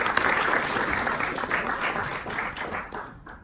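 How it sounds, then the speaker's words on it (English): A steady round of applause from a seminar audience at a personal brand building session, dense clapping holding for about three seconds before tapering off at the end. "let's give a huge round of applause"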